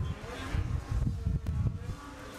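A race car at the FIA Motorsport Games drifting event spins its wheels without much grip. The engine note is a steady, close, low rumble that swells and dips under continuous commentary voices.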